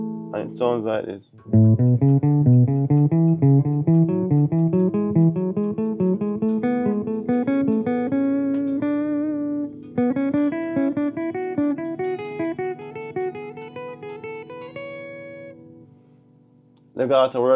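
A single guitar plays the major scale in four-note groupings, clean plucked notes stepping steadily upward in a continuous run, close and clear, with brief bursts of talk at the very start and end.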